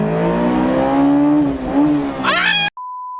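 A Honda car engine revving hard with a rising and falling tone through quick gear shifts, loud and close. A brief rising whine ends in an abrupt cutoff, followed by a steady electronic beep.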